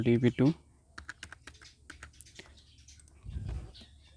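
Someone types an OTP code on a computer keyboard, producing a run of crisp, separate key clicks in an irregular rhythm, close and fairly quiet. A voice speaks briefly at the start and again near the end.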